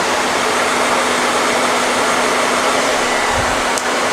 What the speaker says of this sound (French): De sèche-cheveux.